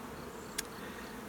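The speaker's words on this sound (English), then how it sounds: "just jam-packed with bees." Honey bees swarm thickly in a crowded colony used for queen rearing, making a steady, close, dense hum with one brief sharp click partway through.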